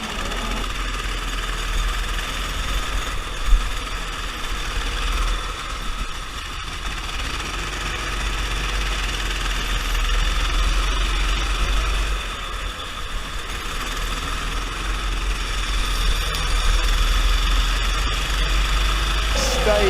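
Car engine in an F1 racing video game, a steady droning buzz that holds for the whole stretch with slight swells in pitch and level, loud and up front, with speech from the game in places.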